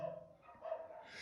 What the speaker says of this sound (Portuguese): os cachorros começam a latir